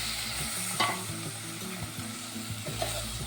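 Bottle gourd pieces stirred and frying in a pot with turmeric for a Hyderabadi wedding-style dalcha, giving a steady close sizzle with several distinct scraping stirs and clacks of a spoon against the pot.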